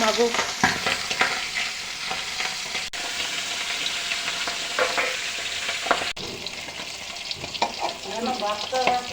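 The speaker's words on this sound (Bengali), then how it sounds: "তেল গরম হয়ে গেছে, মাছগুলো দিয়ে দিব।" Tengra fish frying in hot oil in a kadai, a loud continuous sizzle with crackling bursts and stirring clatter close by throughout, no voices.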